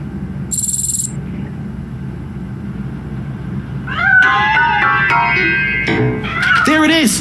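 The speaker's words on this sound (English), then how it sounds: "That cat must be hiding inside." A cat meows several times inside a piano in the video game RoboCop: Rogue City, with rising and falling cries over a steady game ambience and a brief burst of noise near the start.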